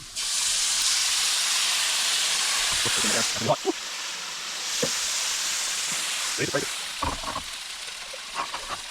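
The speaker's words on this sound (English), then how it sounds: "we're going to put the Malaysian curry in" Malaysian curry hits a hot pan at a riverside campsite, a steady loud sizzle and hiss running throughout, with a few clinks and scrapes of cooking gear and brief speech breaking in over it.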